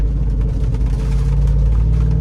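A tuned Jeep Rubicon 392 V8 revving hard in first gear, a loud, close, continuous throaty engine roar with no pops or crackles, no voices.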